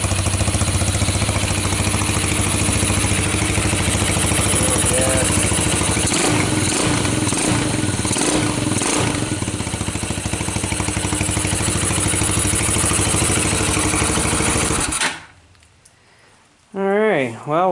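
An LT230 thresher engine runs loud and steady with a dense mechanical clatter and vibration for about fifteen seconds, then cuts out abruptly, leaving near silence with a faint tail.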